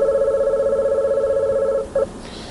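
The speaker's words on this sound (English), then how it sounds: "Here's what tone number 2 sounds like." An office phone system plays a sample ringtone, a steady rapidly pulsing electronic warble that holds for nearly two seconds, then breaks off, gives one short extra burst, and ends in quiet hiss.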